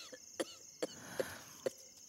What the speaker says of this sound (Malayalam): ചുമ നിൽക്കാത്തത്